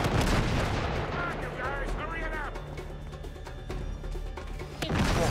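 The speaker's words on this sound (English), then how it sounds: "Not while they're firing at us." Gunfire in Uncharted 3: Drake's Deception, with repeated loud shots and heavy booming impacts amid game music, while characters shout and talk over the action.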